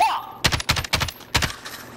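Four sharp, separate single shots from a semi-automatic gun in Call of Duty Warzone, loud and close, spaced a fraction of a second apart, with a faint background tone at the start.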